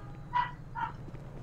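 Two short dog barks from the video game GTA Online, moderately loud, spaced about half a second apart over a low background hum.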